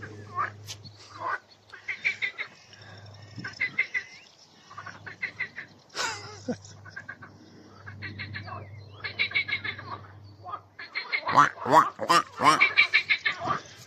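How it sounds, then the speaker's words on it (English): Marsh frogs croak in quick, pulsing bursts that grow loud near the end, with someone talking over much of it and a low hum underneath, at a wetland nature reserve. "Have a listen to these marsh frogs."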